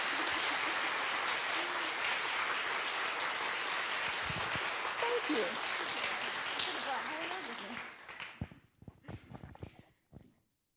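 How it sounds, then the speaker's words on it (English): Sustained audience applause fills a hall at a county special-education awards ceremony, loud and steady for about eight seconds before fading into a few scattered claps, with a brief spoken thanks near the end. "So let's give them a round of applause, please."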